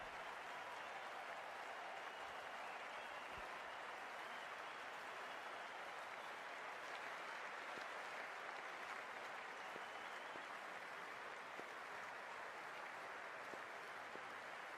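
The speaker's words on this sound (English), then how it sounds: "already the crowd is up and about" A stadium crowd at a cricket match in the video game Cricket 24 cheers and applauds in a steady, dense wash of claps and noise, distant and unbroken throughout, with no voices standing out.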